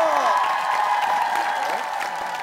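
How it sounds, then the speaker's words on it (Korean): Studio audience at a Korean TV talent show bursts into sustained applause with scattered cheers, a dense steady wash of clapping from a sizable crowd. "자, 다음 여기 큰 박수로 쟁여보도록 하겠습니다."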